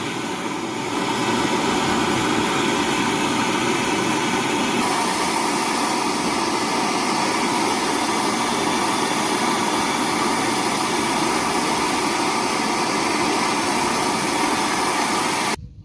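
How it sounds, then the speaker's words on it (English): A blowtorch flame heats the fuel vaporizer on a Ford Transit 2.4 diesel, roaring with a constant, close, broadband hiss that holds steady throughout and stops abruptly at the end. "So again, I'm going to use the blowtorch"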